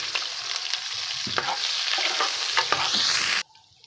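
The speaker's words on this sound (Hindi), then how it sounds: "अब इसके अंदर हम प्याज ऐड करेंगे।" Chopped onions sizzle in hot oil in a pan for an arbi baingan masala, with repeated scraping stirs from a spoon over a constant close frying hiss that stops abruptly at the end.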